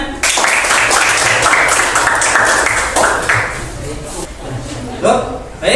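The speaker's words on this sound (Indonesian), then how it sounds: "Tepuk tangan." A crowd claps together for several seconds, the applause fading out, with voices murmuring underneath.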